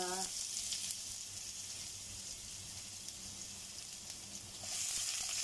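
Onions sautéing in a pan for Filipino sinigang, a steady hiss of frying that swells louder near the end, with faint clatter underneath.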